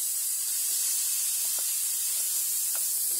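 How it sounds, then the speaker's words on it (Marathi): Ghee sizzling on a hot tawa griddle, a steady broadband hiss that holds evenly from start to finish, with a few faint pops and no voices. "आता याच्यामध्ये तव्यामध्ये घी टाकते।"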